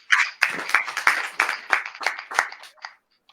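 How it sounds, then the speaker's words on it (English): An audience claps for a new intern at a TV station's welcome event, a short run of about a dozen sharp, separate claps close by that thin out and stop after about three seconds. "Clap for her."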